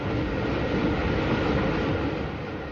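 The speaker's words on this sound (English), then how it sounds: "The train crosses over one of the great engineering features of the Brighton line, the Ouse Valley Viaduct" A 1950s–60s Southern Railway electric train on the Brighton line rumbles steadily across the Ouse Valley Viaduct, a continuous dense roar of wheels and carriages, loud and even, with no voices.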